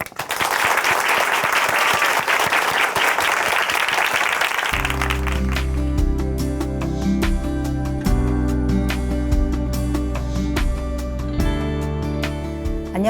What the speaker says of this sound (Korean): 춘천 한마음교회 한선미 자매님 박수로 모시겠습니다